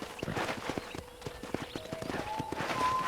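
Horse hooves clip-clop at a steady walking rhythm in the Western video game Red Dead Redemption, close and distinct, with faint tonal game sounds woven in and no talk over them.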